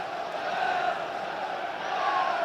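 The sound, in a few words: football crowd cheering on their side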